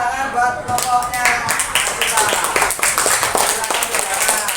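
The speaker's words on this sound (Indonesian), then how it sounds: "tepuk tangan buat kelompoknya" Students in a classroom clap for a presenting group, a quick burst of close, sharp handclaps that continues steadily throughout.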